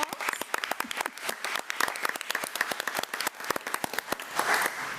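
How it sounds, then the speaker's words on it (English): At a school board meeting, an audience gives a round of applause, sharp individual claps clearly separated and sustained for several seconds, fairly close. "Let's give Jalen another round of applause"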